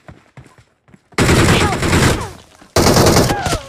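Bursts of gunfire in the mobile battle royale game Battlegrounds Mobile India: after a second of faint scattered shots, two loud, dense fusillades of rapid automatic fire erupt close by, with a brief gap between them.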